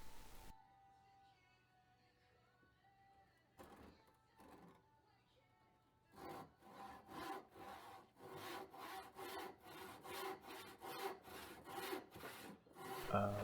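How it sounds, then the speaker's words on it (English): An early 1900s hand saw, 8 or 10 teeth per inch, cuts through a sycamore offcut. After a quiet start, rhythmic back-and-forth rasping strokes follow close and grow louder. "I believe this is a 8-point per inch saw"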